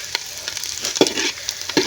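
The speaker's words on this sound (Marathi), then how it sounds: "चांगलंच फ्राय होतं आहे कांदा पहिला" Onion frying hard in a very hot pot over a blazing wood-fired clay stove, a steady crackling sizzle with scattered sharp pops and scraping stir strokes, close and fairly loud, no talking.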